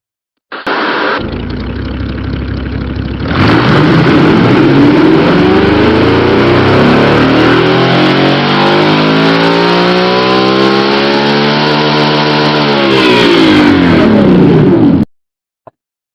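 A car engine in a racing video game revs hard and climbs steadily in pitch for several seconds, loud and close, with synthetic game-like engine tone and no talking.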